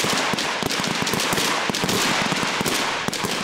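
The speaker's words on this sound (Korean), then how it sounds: "50명의 사수들이 한꺼번에 뿜어내는 총성이 야교대에 가득 울려 퍼집니다." Dozens of rifles fire at once on a military firing range, a dense, loud, continuous crackle of overlapping shots echoing across the range with no pause.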